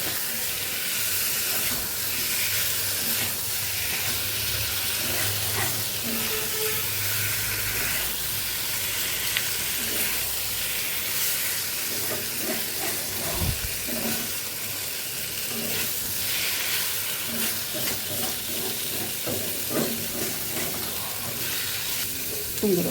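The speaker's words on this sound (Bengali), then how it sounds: "এটা দিয়ে আর একটু কষে দেব।" Potato, pointed gourd and paneer curry sautéing in a pan, a steady frying hiss and sizzle with occasional stirring clinks and scrapes, close and continuous without talk.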